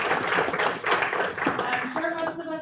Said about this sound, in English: So just a little bit round of applause for the three of them